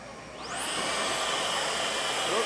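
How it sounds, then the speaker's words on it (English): Milwaukee M18 precision blower spins up after a half-second and then runs steadily, a loud close rushing whoosh with a rising whine at start-up. "Can I blow it from this way or the other way?"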